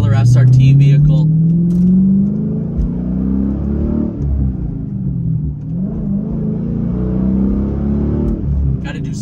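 A Dodge Challenger SRT8 engine revs up through slow shifts on an early morning with the transmission still warming. The deep, loud rumble climbs, drops and climbs again, heard close while a person talks.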